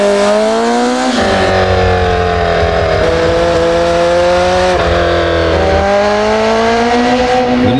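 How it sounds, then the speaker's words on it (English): Nissan 240SX sports car accelerating hard, a loud close engine whose pitch climbs steadily through each gear, with brief drops at the gear shifts before it winds up again. "When the engineers at Nissan designed the new 240SX, they wanted it to have certain acceleration characteristics."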